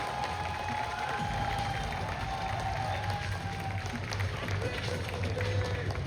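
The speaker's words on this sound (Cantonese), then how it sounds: "可唔可以再俾一次大聲啲嘅掌聲，俾我哋9隊嘅參賽隊伍好唔好？" An audience applauds the nine competing teams at an awards ceremony, a steady wash of clapping filling the whole stretch, with faint tonal sound and voices mixed in.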